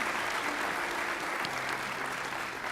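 An audience claps steadily for honored elementary students at a school district's A+ awards ceremony in May 2023, with an even, continuous wash of applause.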